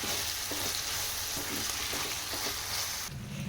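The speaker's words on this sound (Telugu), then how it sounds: "బీరకాయ ముక్కల్ని ఫ్రై చేసేటప్పుడు మంటను సిమ్లో పెట్టుకొని ఫ్రై చేసుకుంటే బాగా మగ్గిపోతాయి" Salted ridge gourd pieces fry on low flame in a pan, a steady close sizzle broken by repeated scraping stirs, with no voices.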